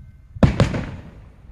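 Fourth of July fireworks going off at a town show, two close, loud booming bursts in quick succession followed by a fading rumble, with no talking.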